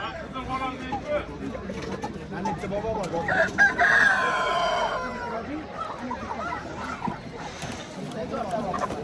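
A rooster crows partway through amid a busy outdoor crowd at a poultry market, with people talking and background chatter throughout.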